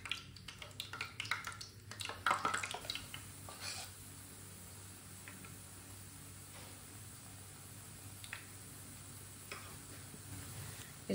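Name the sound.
besan bhalle batter frying in hot oil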